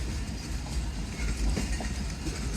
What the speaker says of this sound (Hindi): ये तो नहीं पता ट्रेन कौन सी आई है